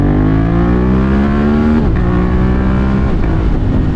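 Motorcycle engine droning loudly at close range while riding, a sustained steady hum that dips briefly as the rider shifts and then settles back, continuous with no pauses and no voices.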